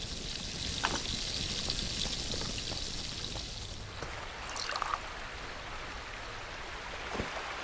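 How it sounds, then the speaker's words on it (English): Water pours steadily into a soaking basin in the survival game The Last Plague: Blight, a soft, continuous trickling wash that runs the whole time with a few faint drips and no voices. "Let's put water in it while I wait."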